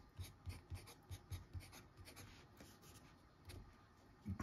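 A Faber-Castell Grip fountain pen in Dapple Grey writing on paper, a series of soft, close, rhythmic nib strokes and scratches, quiet, with no speech.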